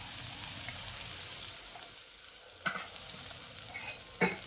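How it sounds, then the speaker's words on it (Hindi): Thick green chillies, coarsely chopped with their seeds, fry in a hot pan with a loud, continuous crackling sizzle, broken by a couple of sharp clatters as a spoon stirs them. "अब हम इसके अंदर डालेंगे मोटी वाली हरी मिर्चें। ये मैंने ली है 10 से 15, इनको मोटा मोटा काट लिया है।"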